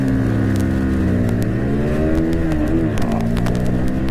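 Bajaj Pulsar 125 and Pulsar NS125 motorcycles accelerate side by side in a drag race, their engines roaring loudly and close by with rising and shifting revs that dip briefly mid-run before climbing again.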